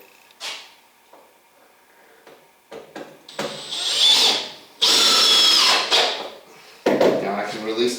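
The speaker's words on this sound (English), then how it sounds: "I can run the screws straight down and get plenty of penetration that way." A power drill drives screws straight down into a wooden reloading bench, with bursts of whirring and grinding at different lengths, separated by short pauses, clattering handling noises and brief movements, close by.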